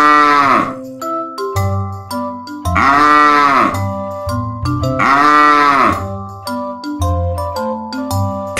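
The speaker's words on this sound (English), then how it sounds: "Can you moo like a cow?" Three loud, drawn-out cow moos ring out up close, one every couple of seconds, over a steady bouncy electronic backing melody in a children's farm animal song.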